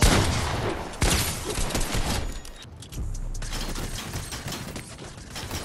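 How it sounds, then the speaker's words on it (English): Rapid SMG gunfire in a video game rattles through continuous dense bursts, loud and close, with a brief dip near the three-second mark before the firing resumes. "I just hit 76 damage with an SMG."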